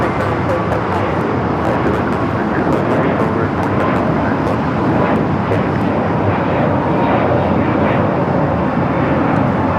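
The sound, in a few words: United Airlines Airbus A321neo taking off at LAX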